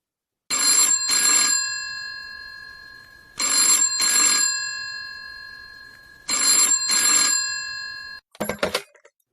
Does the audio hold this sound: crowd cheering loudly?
no